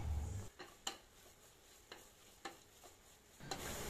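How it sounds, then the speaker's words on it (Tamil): Biryani masala being sautéed in a pot, with a spoon scraping and stirring in several distinct strokes over a soft sizzle, close and fairly quiet. "நம்ம நல்லா வதக்கிட்டே இருக்கணும்"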